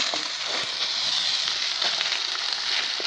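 Meat frying in a pan, a steady close sizzle with dense crackling and popping that holds evenly throughout, no talking.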